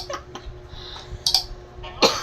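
A few short coughs and throat-clearing bursts from a person, close and fairly loud, separated by quiet pauses with faint background hum.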